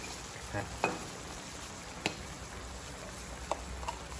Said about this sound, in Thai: เดือดปุบปุบปุบปุบเลย